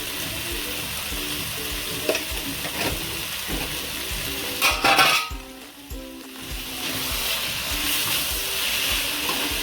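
Onion greens stirred and frying in a pan give a steady close sizzle with soft scraping of the spoon, briefly louder midway, then settling back into an even hiss.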